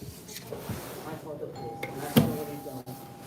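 In a public building lobby, a ring-for-service desk bell gives one sharp, bright ding amid ongoing speech and shuffling.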